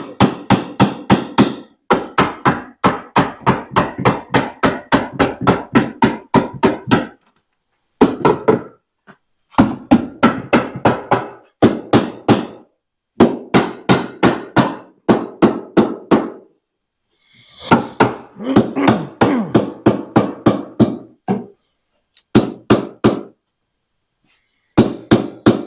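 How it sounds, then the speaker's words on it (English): Hammer blows while building a heavy duty workbench, sharp strikes in rapid steady runs of a dozen or more, broken by short pauses, close and loud. "Got the hammer."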